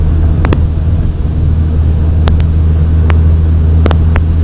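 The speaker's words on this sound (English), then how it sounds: "So pushing the clutch, give it gas, and go to third." A manual-transmission car's engine hums steadily from inside the cabin as the clutch is pushed and the gearbox goes into third, a smooth low drone with a few faint clicks and no break in the engine note.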